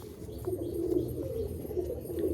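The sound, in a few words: Katagaddan Mukho pigeons cooing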